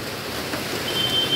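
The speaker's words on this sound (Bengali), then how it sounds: "অনেক বৃষ্টি হচ্ছে" Heavy monsoon rain pouring down, a dense, steady hiss of falling water that swells slightly toward the end.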